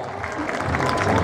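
Crowd clapping at a bullring recortadores event for Mica Romero, continuous applause building slightly louder toward the end, mixed with crowd voices.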